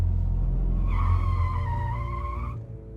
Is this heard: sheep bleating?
no